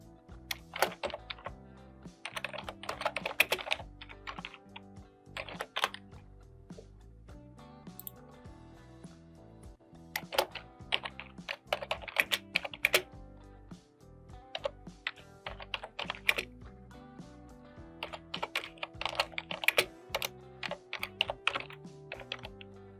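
Someone types on a computer keyboard while entering text into a spreadsheet, with quiet bursts of key clicks and short pauses between them.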